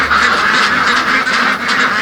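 A crowd of ducks on a Filipino duck farm quacks in dense, continuous chorus, many overlapping calls loud and close with no pauses.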